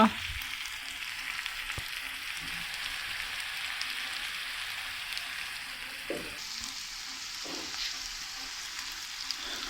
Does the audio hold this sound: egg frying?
yes